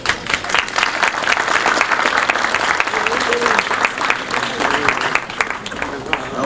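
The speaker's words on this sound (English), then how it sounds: "I want you to give yourselves a big round of applause" A large audience at a 1986 veterans' association gathering in New York applauds steadily, a dense, sustained wash of many hands clapping at close range throughout, with some voices mixed in.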